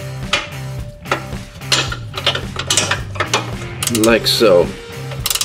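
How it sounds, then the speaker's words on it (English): A 15mm ratcheting box end wrench turns a bolt while a car's sway bar bushings are being replaced, giving quick bursts of close metallic ratchet clicks, with one brief spoken remark near the end. "I'm going to use a 15mm ratcheting box end wrench"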